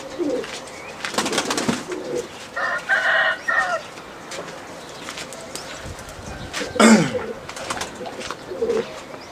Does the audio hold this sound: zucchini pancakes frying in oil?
no